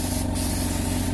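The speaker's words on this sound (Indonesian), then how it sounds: "spray gunnya saya tekan terus, dan posisi 2 bar dia stabil dalam posisi mesin menyala" A Lakoni Basic 9S air compressor runs at about 2 bar with its spray gun held open, giving a steady, loud hiss over a constant motor drone.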